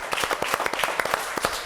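Applause from a small audience at a youth football event: steady, sparse hand clapping with distinct individual claps in an irregular rhythm, fairly close and moderately loud.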